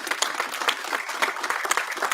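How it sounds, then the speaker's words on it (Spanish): A church congregation gives itself a round of applause, dense and sustained clapping filling the room throughout. "Dense un fuerte aplauso a ustedes."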